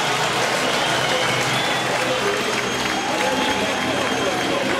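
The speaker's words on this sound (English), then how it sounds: "And there's the roar of the crowd." Spectators at a World Touring Car Championship race in Hungary roar and clap in a dense, continuous wash of crowd noise, with a commentator's voice talking over it.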